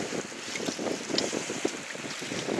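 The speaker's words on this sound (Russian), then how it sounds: "Ветер холодный такой." Gusty wind buffeting the microphone outdoors, a rough continuous rushing with uneven surges.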